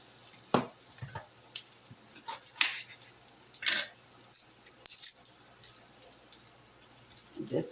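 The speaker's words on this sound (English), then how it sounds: "Hear that sizzle. You don't want them to burn." Food frying in a pan for an apple pie, with a soft steady sizzle under intermittent stirring scrapes, clinks and squishy sounds up close.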